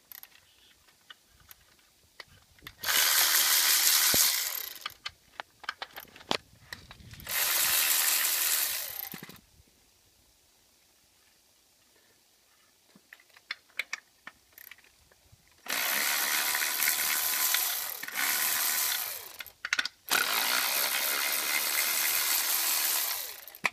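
Ratchet wrench loosening 13 mm oil cooler housing bolts on a Ford 6.0 Powerstroke diesel, heard as several long bursts of rapid metallic clicking, loud and close, separated by quieter pauses with scattered tool clinks.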